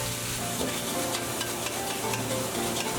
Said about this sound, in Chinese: 下姜蒜末，剁好的碎丝肉，快速炒散，炒至变色